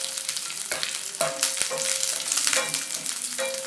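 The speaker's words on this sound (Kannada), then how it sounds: "ಆಮೇಲೆ ಇದಕ್ಕೆ 7 ರಿಂದ 8 ಕರಿಬೇವಿನ ಸೊಪ್ಪನ್ನು ಹಾಕ್ಕೊಂಡು ಇದನ್ನು ಚೆನ್ನಾಗಿ ಹುರಿದುಕೊಳ್ಳಿ." Seven or eight curry leaves fry in hot oil for a North Karnataka stuffed brinjal dish, crackling and sizzling steadily close up with intermittent stirring scrapes.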